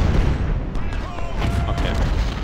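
Gunfire in Ultimate General: Civil War, a Union battle: dense crackling volleys and muffled booms merge into a steady, loud battle din for the whole stretch, with no talking.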